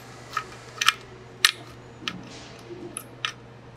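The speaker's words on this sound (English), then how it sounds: "go ahead and tighten it up" A screwdriver tightens a wire terminal inside a weighing-scale junction box, producing several short, sharp clicks and ticks spaced irregularly over a faint steady hum, close and fairly quiet.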